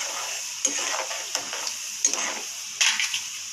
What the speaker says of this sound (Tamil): கடலைப்பருப்பு நல்லா ஃப்ரையாக வரும்